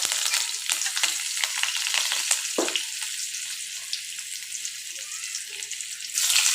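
Potatoes and chilli frying in hot oil already used for frying fish, a steady close sizzle with crackles and spatters throughout, the hiss swelling at the end.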